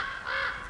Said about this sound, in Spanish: Mucho cuervo estoy escuchando yo por aquí